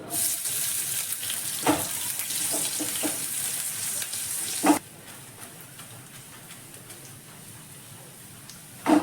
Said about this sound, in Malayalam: ഉള്ളി പൊരിഞ്ഞ് വരുന്നുണ്ട്